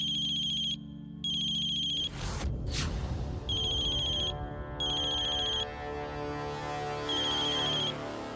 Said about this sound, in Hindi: अथर्व का फोन